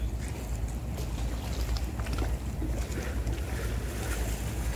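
Wind and surf at a seaside shore where boats are moored offshore, a steady broadband rush with low rumbling gusts buffeting the microphone throughout, with no distinct voices.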